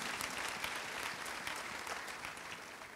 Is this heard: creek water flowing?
no